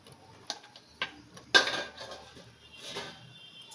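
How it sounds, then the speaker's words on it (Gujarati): Mango kernels drop into a pressure cooker with water on a stove, giving a few separate clinks early on and then one sharp, bright clatter of hard stones against the metal pot, with fainter rattles afterward. "એમાં આ બધી ગોટલી નાખી દેવાની"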